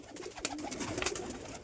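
Pigeons coo softly in a loft, among pairs of fancy breeds such as Lakka and American Fantail, with low murmuring calls and a few sharper sounds over faint background, no talk.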